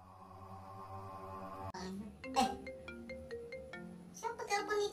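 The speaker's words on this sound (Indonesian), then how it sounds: "Siapa telepon nih tiba-tiba nih?" A phone ringtone plays close by, a short electronic melody of repeated beeping tones, with people talking around it.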